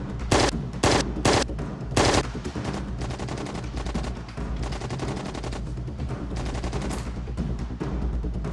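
Gunfire in a comedy scene: several loud separate shots at first, then rapid, continuous automatic fire that goes on to the end.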